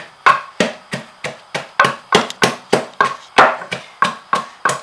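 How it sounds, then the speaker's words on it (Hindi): Garlic pounded by hand in a mortar, a steady series of about fifteen sharp, close thuds at an even rhythm of roughly three per second, each with a quick decay, and no talking. "ये लहसुन जो है ना मैं थोड़ा सा कूट लूँ"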